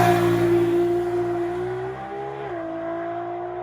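A drag racing car at the strip holds a high, steady engine drone with tonal harmonics that then dips in pitch and fades, heard from a distance without any talking.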